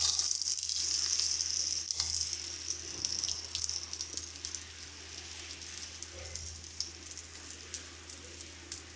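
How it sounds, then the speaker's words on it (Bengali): Soaked rice for basanti pulao fries in hot fat in a pan, giving a steady, close hiss and crackle of sizzling that continues throughout with no talk. "চলো চালটাকে একটু হালকা করে আমরা ভাজা ভাজা করে নিচ্ছি"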